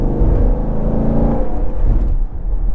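Close, loud engine note of a C7 Corvette pulling hard in fourth gear, a steady rising drone that eases off near the end, with no voices.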